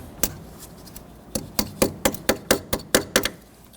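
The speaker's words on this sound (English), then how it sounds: "On this top tab, I'm going to roll over, tap that down" A cotter pin tab is tapped down over a castle nut on a 1992-1996 Toyota Camry front lower ball joint: a run of about a dozen sharp, close metallic hammer taps, speeding into a steady rhythm.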